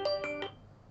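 Three quick electronic tones from a phone line call ring out in a rapid, evenly spaced sequence in a quiet room during an Islamic lecture, fading to a low hum afterward.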